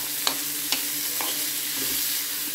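Sesame seeds mixed with salt being stirred in a pan, a steady dry scraping hiss with a few soft clicks of the spoon, close and fairly quiet, with no voices.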